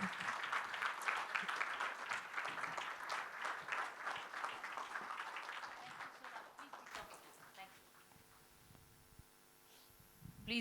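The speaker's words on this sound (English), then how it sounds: "Big round of applause once again." An audience applauds at a national business summit. Dense, fairly distant clapping fills the first several seconds, then fades out into a quiet room hum.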